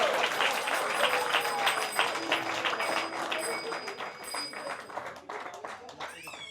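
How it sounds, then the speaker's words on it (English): Audience applause after a stage drama about Lord Chaitanya Mahaprabhu, steady dense clapping from a large crowd with voices and cheers mixed in, tapering slightly near the end. "Wow, give them all a round of applause."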